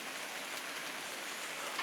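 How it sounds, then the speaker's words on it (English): Steady downpour of heavy rain at an outdoor castle earthwork site, a dense continuous hiss of drops on the ground and surroundings with no voices. "It's just starting to pour down with rain."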